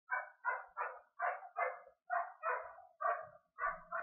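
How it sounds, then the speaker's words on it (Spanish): A single dog barks about nine times in a steady rhythm, each bark sharp and close with short gaps of silence between them. "que alguien controla a ese perro"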